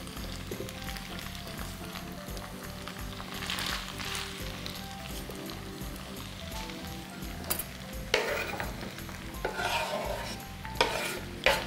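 Mushroom and ham lasagna filling fries in a pan, giving a steady, close sizzle broken by scraping stirs that grow busier and louder toward the end, with no talking.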